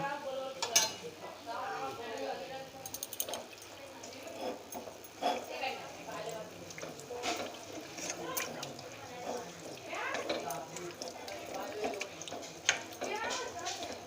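Lote fish (Bombay duck) being mixed with spoonfuls of hot oil in a bowl for crispy fish pakora, giving soft clinks and scrapes of a utensil against the bowl beneath steady talking.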